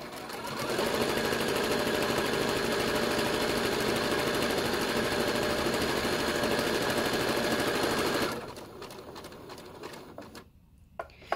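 Sewing machine running continuously at a long stitch length while sewing a flat bottom makeup bag, a close steady whirring hum for about eight seconds that then stops, leaving faint handling noises.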